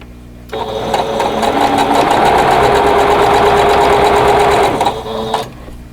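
Sewing machine stitching white fabric squares together for a quilt block, a loud, fast, even mechanical whir with rapid needle clatter that starts abruptly, runs steadily for about five seconds and then stops.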